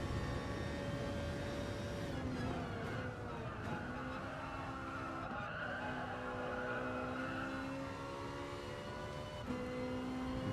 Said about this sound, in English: Can hear those tyres squeal, as it were, as they search for grip.